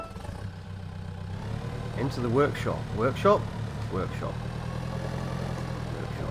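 A tractor engine idles steadily in the Pure Farming video game, a low continuous hum running through the clip while someone talks over it.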